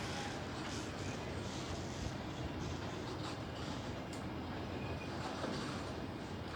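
A regional train rumbles steadily along the tracks arriving at a station in Grisignano di Zocco, Italy, a continuous rolling noise with faint clicks, heard from a moderate distance with no talking.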